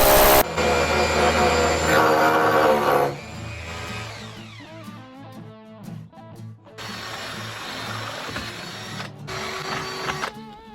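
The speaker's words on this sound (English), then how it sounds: "So we've drilled our holes both ends." A power drill bores holes at both ends of a cut of meat for smoking, its motor whining loudly in several runs that rise and fall in pitch, with short pauses between them.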